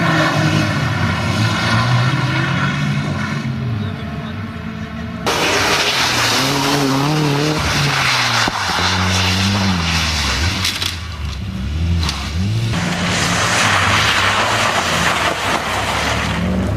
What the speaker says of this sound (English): And that was that spin for Sarazan